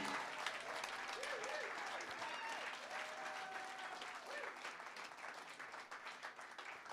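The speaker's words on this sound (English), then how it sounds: "how about a nice round of applause for the people at the Fallout Shelter?" A small live blues venue's audience applauds steadily, a dense wash of clapping from the crowd filling the room for the whole stretch, with a voice faintly audible beneath.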